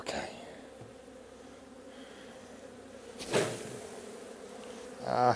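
Honey bees buzzing around an opened hive in January, a faint steady hum close by with a couple of louder passes near the microphone.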